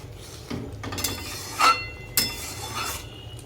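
A spoon scrapes and clinks against a pan while cashew paste is stirred into paneer masala gravy, giving a few sharp metallic taps and scrapes spread over a quiet kitchen background.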